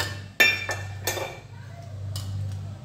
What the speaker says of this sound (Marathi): तर कढई तापायला ठेवली,